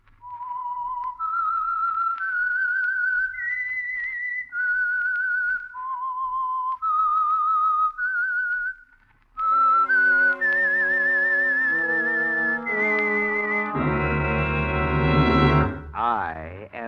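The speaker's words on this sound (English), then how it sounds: "That whistle is your signal" A clear, close whistled melody of sustained, slightly wavering notes from a 1949 radio program, followed by a louder rising whistle passage with rich tones and a sweeping finish.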